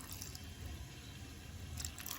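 Water poured into a mixer jar holding soaked chilies, a soft trickling splash that is quiet and brief, with no talking.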